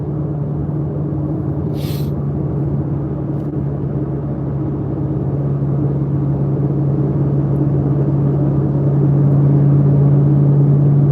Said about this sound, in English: My car is pretty loud.